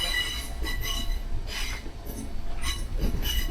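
A Merseyrail Class 507 battery-powered electric train moving off, heard from the cab with rolling wheel rumble, rhythmic clicks over rail joints and high squealing wheel tones, no talking.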